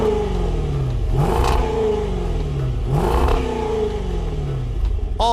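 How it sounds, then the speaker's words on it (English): A 5-liter supercharged V8 engine in a 2020 Range Rover Velar SVAutobiography Dynamic Edition revs hard twice, each rise climbing to a roar and falling back, loud and close over a rumbling idle. "there's a 5-liter supercharged V8 with 550 horsepower, 502 pound-feet of torque, and this engine note"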